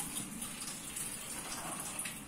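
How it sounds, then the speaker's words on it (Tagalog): Tap water gushes steadily for a couple of seconds as hands are washed at a kitchen sink while cassava dessert balls are being prepared, a close, continuous rush with no talking. "Hali, hahugas ako ng kamay yan kasi halu-haluin natin."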